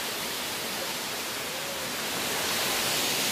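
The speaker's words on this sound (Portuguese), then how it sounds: "a gente ia conhecer aqui essa cachoeira" Waterfall at Cachoeira Escondida in Joanópolis, São Paulo, a dense, steady roaring rush of falling water, loud and close, building slightly toward the end with no voices.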